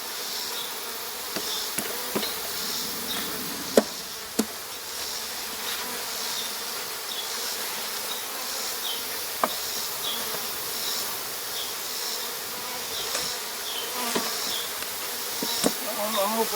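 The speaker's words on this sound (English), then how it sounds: "There are 2 different size bees in there." Honeybees, drones among them, drone and buzz steadily around an open beehive, a dense continuous hum close by, with occasional sharp clicks and taps from handling the hive frames and faint talk.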